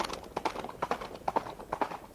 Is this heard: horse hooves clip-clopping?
yes